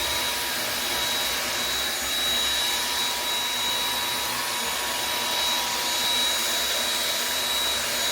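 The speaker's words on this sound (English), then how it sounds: "I'm gonna vacuum them" A loud vacuum cleaner sucking up ants roars steadily and continuously, a dense broadband whine with no pauses and no voices.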